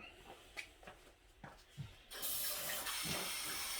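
Tap water runs into the small cap of a TDS meter, starting as faint drips and splashes, then becoming a steady, close, hissing pour in the second half.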